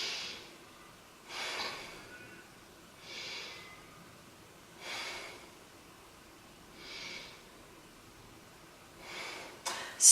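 Slow, deep breaths during a yoga practice, five or six long exhalations spaced about two seconds apart, close and soft, with no talking.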